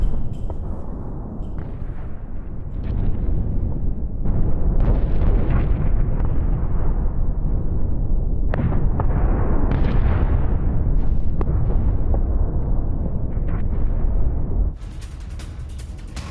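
Missile strikes and bombardment on a military base: a continuous, heavy rumble of blasts with rolling booms and bursts, loud and dense for most of the stretch, then dropping to a quieter wash at the end.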